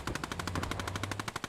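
Rapid automatic gunfire in a competitive multiplayer video game match, a steady fast burst of evenly spaced shots lasting throughout, loud and close with no talk.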